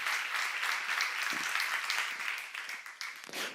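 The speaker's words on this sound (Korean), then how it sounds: "박수 하세요" A church congregation applauds during a sermon, a steady wash of many hands clapping at moderate level, gradually thinning with a few louder individual claps near the end.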